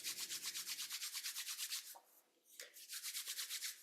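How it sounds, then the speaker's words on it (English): Palms rub briskly together in a fast, steady back-and-forth rhythm, a close, soft swishing friction that pauses briefly midway and then resumes, with no talk. "rub your hands together"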